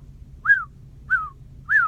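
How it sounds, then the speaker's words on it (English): A sling swung to hurl a stone whistles through the air in a David and Goliath telling, three short falling whistles evenly spaced over a low background hum. "The sling whistled with mountain force."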